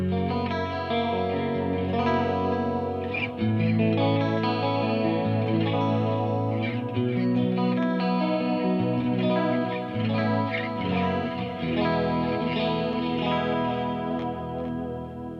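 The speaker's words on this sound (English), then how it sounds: "turn on the Julia chorus pedal and my flashback delay and see how it sounds" Electric guitar played through a BluGuitar AMP1 Iridium amp with a Julia chorus pedal and Flashback delay, sustained shimmering chords and notes ringing continuously with a wavering chorus and trailing echoes, loud and close, no voices.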